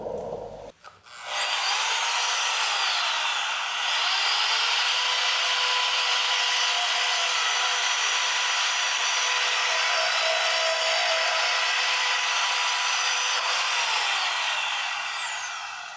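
A Suzuki GS750 motorcycle frame is cut in half with a power saw that whines loudly and steadily for about fifteen seconds after a brief start, its pitch shifting slightly as it cuts, with no talk.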